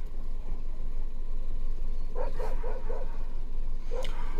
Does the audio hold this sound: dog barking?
yes